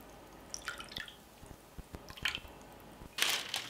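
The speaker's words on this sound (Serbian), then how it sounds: "Sipat ću i 50 ml vode," Water poured from a small measure over marinated meat in a dish, heard as scattered drips and splashes with a louder wet burst near the end, close and fairly quiet, no talking.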